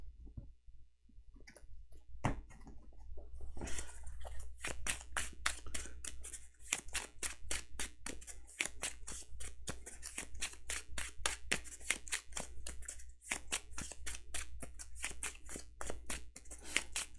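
A deck of cards for the Earthborne Rangers board game being shuffled close up, producing a long, steady run of crisp, rapid clicks and flutters with no talking.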